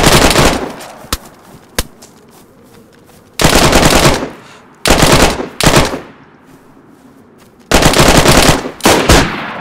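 Shotguns fire in DayZ, a survival video game. Loud, sharp blasts come as isolated single shots and then in clustered bursts, close and booming, with quieter gaps between them and no voices.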